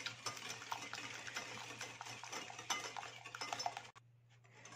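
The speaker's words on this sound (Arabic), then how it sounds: "غادي نضرب هذا البيض وسنيده مزيان" Eggs and sugar beaten in a bowl for a caramel cream cake, a steady rapid scraping and clinking of a utensil against the bowl that stops abruptly near the end.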